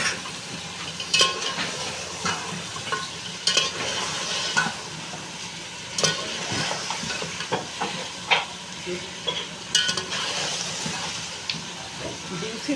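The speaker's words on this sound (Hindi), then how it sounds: "अब इसमें हम डालेंगे सब्ज़ मिर्चें, 8 अदद डाली है मैंने। तो अब हम इसको भूनेंगे अच्छी तरह।" Eight green chillies fry in a pot for palak gosht, a continuous close sizzle and hiss broken by repeated scraping and clanking stir strokes every second or two.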